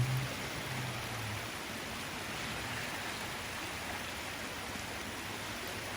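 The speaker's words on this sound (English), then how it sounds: "The sound of water is just very relaxing." Creek water running steadily at a park in Sutter Creek, California, a continuous broadband wash with no breaks, fairly quiet and unchanging, with no one talking.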